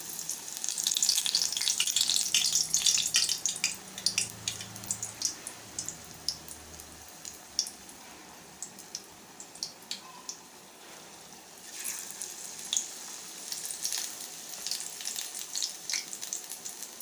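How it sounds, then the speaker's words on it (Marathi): Spinach-leaf pakoras coated in gram-flour batter deep-fry in hot oil, crackling and bubbling loudly at first, then dropping to softer intermittent sizzling and pops. "या प्रकारे आपण सर्व पालकची भजी तळून घेऊया।"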